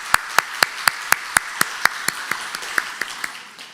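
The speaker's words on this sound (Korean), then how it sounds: "한번 우리 박수로 환영해 주시면 고맙겠습니다." A church congregation at a Sunday service claps to welcome a returning exchange student, sharp, evenly spaced claps in a steady beat that softens toward the end.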